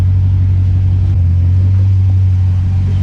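A Jeep SRT fitted with an aFe Power exhaust runs close by, giving off a loud, steady, deep drone with a constant low throb and no revving.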